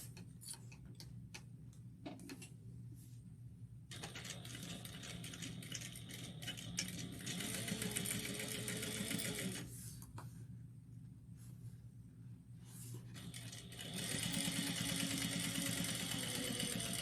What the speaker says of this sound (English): So we're going to sew the pocket lining.